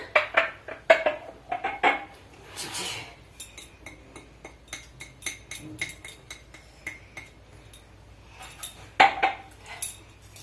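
Metal kitchen utensils and bowls clink and clatter in a home kitchen, a series of sharp close knocks and rattles with short pauses between them.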